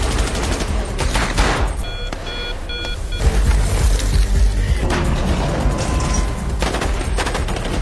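Gunfire rips through an action film scene in loud, sustained bursts of rapid shots, mixed with high electronic beeping tones and heavy booming rumbles, with no voices over it.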